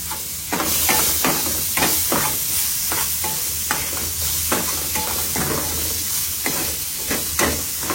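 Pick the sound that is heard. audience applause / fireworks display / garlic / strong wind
garlic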